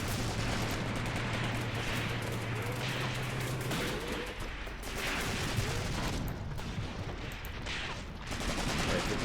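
Distant heavy gunfire and artillery in the Graviteam Tactics: Mius Front war game, a continuous dense rumble of shots and blasts across an open field, with a steady hum at the start and a few louder booms throughout.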